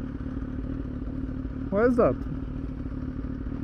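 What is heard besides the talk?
motorcycle exhaust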